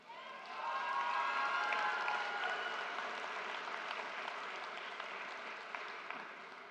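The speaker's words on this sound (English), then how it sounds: "As I'm sure all of your palms are now sore from clapping" An audience claps steadily through a high school graduation ceremony, a dense, sustained wash of applause that swells quickly and holds with scattered cheers mixed in.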